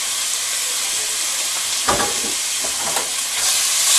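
Strips of cut beef steak sear in a hot pan, producing a dense, continuous hiss with a couple of brief louder flares and scrapes as the meat is spread out.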